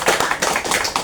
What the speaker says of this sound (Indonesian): Saya juga boleh tepuk tangannya.